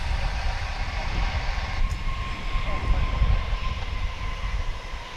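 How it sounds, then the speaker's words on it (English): American Airlines Boeing 737-800 arriving at DFW from Bozeman, Montana: a low, rumbling jet drone with a faint steady whine on top, moderately distant and fairly quiet, rising slightly in the middle. "Meanwhile, this flight's coming in from Bozeman, Montana. American 2523, 737-800."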